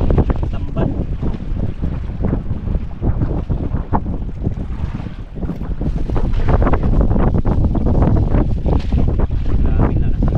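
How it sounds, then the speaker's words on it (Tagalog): Strong wind buffeting a cellphone microphone on a coastal fishing outing, a loud, continuous low rumble with gusty thumps and swells that never lets up. "Maingay talaga ito sa cellphone, ang lakas ng hangin."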